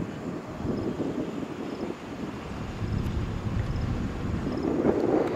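Lancer Columbia 300 sport plane coming in to land, a steady broad rumble of engine and wind that swells toward the end, with no voices over it.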